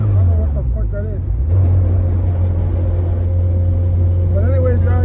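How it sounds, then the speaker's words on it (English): A car rumbles with a loud, steady low vibration while driving, a constant droning hum with road noise underneath, and someone talks over it. "it's like a loud vibration coming out of the car."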